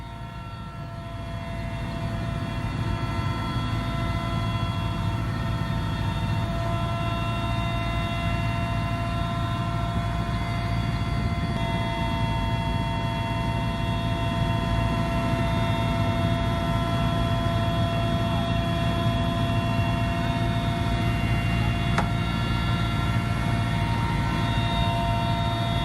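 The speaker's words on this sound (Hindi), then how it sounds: "जंगल में आग पर लगातार हेलीकॉप्टर से पानी डाला जा रहा है।" Helicopter fighting a forest fire by dropping water drawn from a lake, heard as a steady, loud, continuous rotor and engine drone with no talking.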